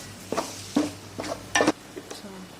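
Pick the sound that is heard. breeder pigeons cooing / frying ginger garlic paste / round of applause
frying ginger garlic paste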